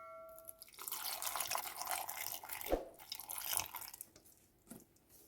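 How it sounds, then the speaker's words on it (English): Water is poured into a blender jar holding banana, oats, raspberries and strawberries for a smoothie, a faint close trickling and splashing over several seconds with a few louder drips. "And finally I'll add some water."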